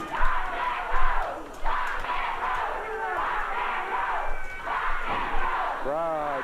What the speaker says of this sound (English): Crowd cheering Robert and Rick.